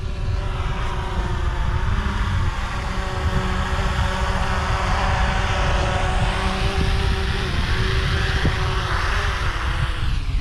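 A small drone flies over a bay during a scuba diving trip, its steady whining propeller drone sustained throughout over continuous outdoor background noise.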